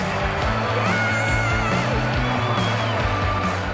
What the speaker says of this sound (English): Mansfield take the lead and the home crowd are off their feet